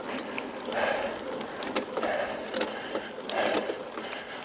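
Mountain bike drivetrain shifting down into the granny gear on a steep climb in a remote Northern Territory community, giving repeated clicking and ratcheting mechanical ticks over a steady background of rolling and breathing.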